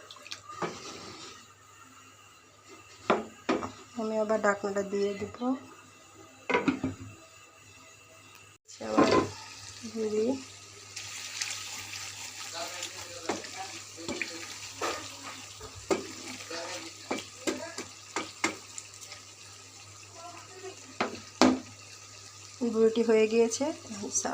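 Beef tripe stir-fries in a pan after a splash of water, with steady close sizzling, scraping stirs, and intermittent spoon clinks under occasional speech.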